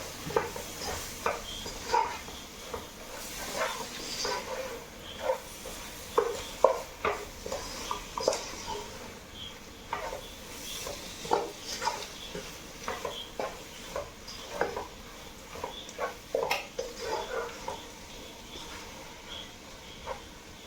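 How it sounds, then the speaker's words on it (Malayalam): Kashmiri chilli powder and pepper powder sauté in a pan, heard as a soft, steady sizzle under repeated scraping and stirring strokes of a spoon against the pan, close and fairly quiet, with no talk. "ഇതിൻ്റെ ഒക്കെ പച്ചമണം മാറുന്നോടം വരെ നമുക്കൊന്ന് വഴറ്റി വെക്കാം"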